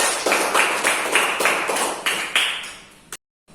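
A classroom of students claps in a rhythmic pattern of roughly a dozen evenly spaced, sharp group claps, close and fairly loud, ending abruptly in silence.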